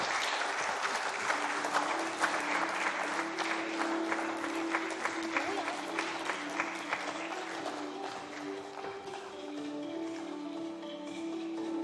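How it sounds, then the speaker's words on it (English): Sustained round of audience applause for speakers at the inaugural session of an oral health conference, dense steady clapping that slowly thins toward the end, with faint voices and a low tone beneath. "Can we have a round of applause for our speakers?"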